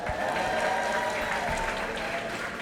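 A ceremony audience applauds a student band from SUTD, a steady, moderately quiet patter of many hands clapping throughout.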